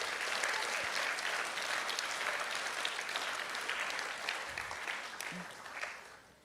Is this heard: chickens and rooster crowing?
no